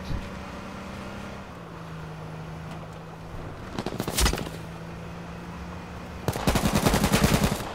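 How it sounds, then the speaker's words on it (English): Automatic gunfire in the H1Z1: Battle Royale game comes in two rapid bursts, a short one in the middle and a longer, louder one near the end, over a steady engine-like hum. "Yeah, I'm being shot from behind."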